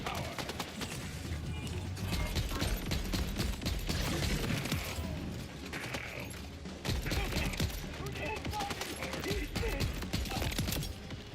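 Assault rifle fire in the Borderlands 4 video game, heard as dense, sustained bursts of rapid shots with mechanical clatter, loud and continuous across the whole stretch.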